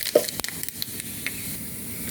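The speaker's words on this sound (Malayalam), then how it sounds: "അതിലേക്ക് കടുക് വറുത്തിടാം. വെളിച്ചെണ്ണ ഒഴിച്ചിട്ടുണ്ട്," Mustard seeds splutter in hot coconut oil, a few faint pops and crackles over a soft, low sizzle that lasts only a couple of seconds.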